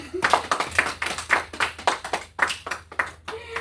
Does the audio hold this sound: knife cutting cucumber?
no